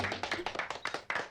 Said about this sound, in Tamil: கை தட்டுங்க. எப்ப கையை தான் தட்டுங்களேப்பா.